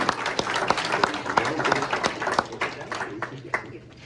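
Members at a general business meeting clap to welcome new volunteers, a room of individual, distinct hand claps that is lively at first and then thins out and tapers off.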